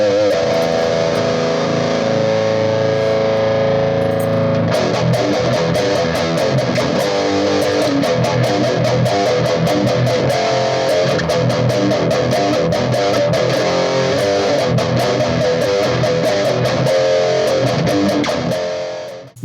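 Electric guitar played through a Vox Valvenergy Cutting Edge distortion pedal with the mids turned up, loud, thick, saturated chords and riffs sustaining continuously, with no talking.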